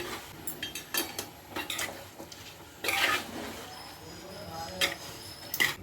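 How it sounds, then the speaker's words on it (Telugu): Chicken curry being stirred in a pot, with a metal spoon clinking and scraping against the sides in irregular bursts, close by and moderately loud over a low kitchen background. "చికెన్ అయితే కలుపుతున్నా అండి"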